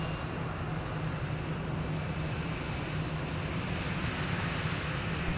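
An airliner on its takeoff roll at Minneapolis–Saint Paul airport, a steady broadband engine roar with a low hum, loud and unbroken throughout with no talk.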